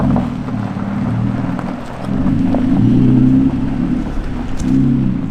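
Toyota Tacoma V6 with a straight-piped exhaust under load on the road, a deep throaty engine drone that swells and eases as the truck pulls, close and loud with no talk.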